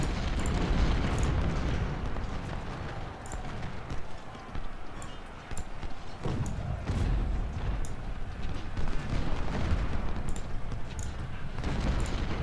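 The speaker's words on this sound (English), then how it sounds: "So our cannons can open up." Cannon artillery in the Civil War strategy game Ultimate General: Civil War: a continuous rumbling barrage of booming shots and thuds, loud and dense, with sharp crackling reports scattered throughout and no talking.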